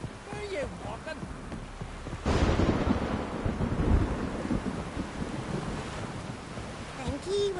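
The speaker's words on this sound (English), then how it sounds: "Rain's back again." Rain and rumbling thunder in Witcher 3: Wild Hunt, a broad roaring wash that swells loudly partway through and lingers, with faint character voices over it.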